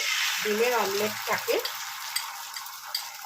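Beaten egg hits hot oil in a pan, giving a steady, broadband frying sizzle that carries on continuously after a brief low splutter at the start, fairly close and with no talking.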